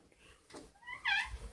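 Bathroom door hinges creak as the door swings open, a short rising squeal that climbs to a sharp, wavering peak near the end, quiet and close in a still room.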